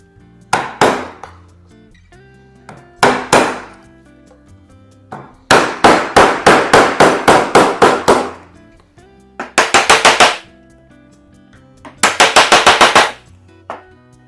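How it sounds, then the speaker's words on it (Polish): A hammer drives a chisel along the grain of an oak tabletop in rapid bursts of sharp, ringing knocks separated by short pauses. The blows are loud and close, with no talking. "nacinamy wzdłuż włókien to, co będzie miało być wydłutowane"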